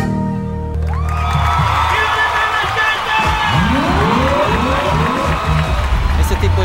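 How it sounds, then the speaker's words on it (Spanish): An outdoor festival crowd bursts into loud cheering, whoops and clapping for an environmental committee, with excited shouts rising over steady applause. "Así que un aplauso para el Comité Ambiente."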